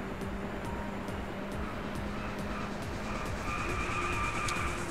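Tires squeal on a hot hatch driven hard at around 100 mph, a sustained high squeak over loud, steady engine and road roar heard from inside the car.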